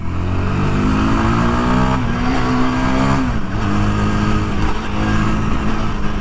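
A 2022 Yezdi Scrambler motorcycle is ridden with a loud, steady engine drone close by, its pitch climbing as it revs and then dropping at a gear change before settling again, with continuous wind noise and no talking.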